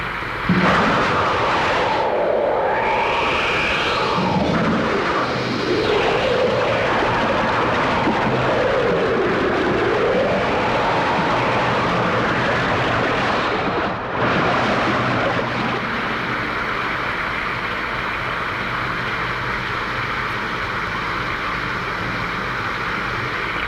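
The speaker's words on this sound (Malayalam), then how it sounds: "അയ്യോ, എന്തൊരു ഇടിയും മഴയും" A heavy rainstorm at night pours down as a dense, continuous roar, with deep rolling thunder swelling through the first part before easing into a steady downpour.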